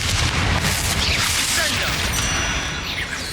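A Confringo fire spell explodes in the wizarding game Hogwarts Legacy, set in a tomb: a loud, crackling blast with a rumbling boom that fades slightly over a few seconds, with a voice heard over it.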